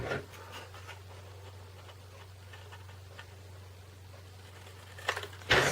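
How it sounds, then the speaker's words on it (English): A pencil drawing a line across a paper tag, a faint, steady scratching stroke over a low constant hum, followed by a couple of sharper clicks at the end. "Draw a line across."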